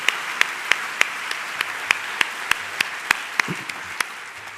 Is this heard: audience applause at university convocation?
yes